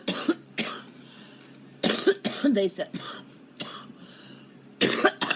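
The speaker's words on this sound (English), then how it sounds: "I don't know why the hell I'm coughing so much this morning." Several sharp coughs in bursts, close and loud, with a short spoken phrase mixed in and quiet pauses between fits.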